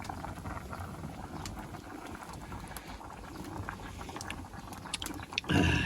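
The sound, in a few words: boiling sour stew with kamias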